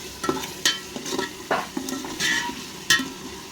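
Biryani masala being stirred in a pan, with repeated scraping strokes of the spoon over a soft, steady sizzle of frying oil, close and fairly quiet, without any talking.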